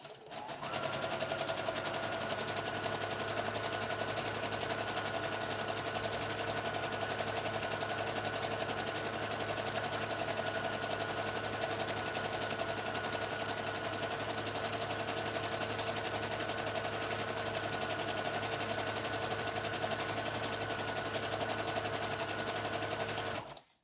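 A sewing machine stitches steadily and continuously at close range, a loud, even mechanical hum and whir running unbroken with no talk over it.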